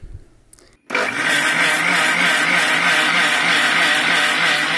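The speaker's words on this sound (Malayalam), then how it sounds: "ഇനി ഇത് അരച്ചെടുക്കാം." A mixer grinder grinds soaked rice, urad dal and lentils into ada dosa batter. After a brief quiet moment the motor kicks on abruptly and runs at a loud, steady whir for the rest of the clip.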